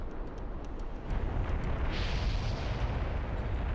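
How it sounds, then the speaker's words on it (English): Fiery explosion in The Legend of Zelda: The Wind Waker's Dragon Roost Cavern, a deep steady rumble that swells after the first second and roars on, loud and unbroken, with a faint repeating chime on top. "Waiting for this to explode."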